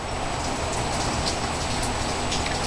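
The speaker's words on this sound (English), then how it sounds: "It's really nice when it's raining." Rain falls steadily outside a room with a mountain view in Canada, a dense, even patter with soft scattered drops and no pauses.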